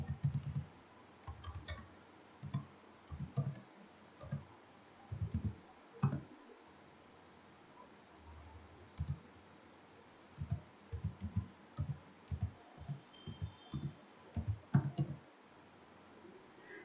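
An address is typed on a computer keyboard in a quiet room, with irregular bursts of soft clicking keystrokes and short pauses between groups.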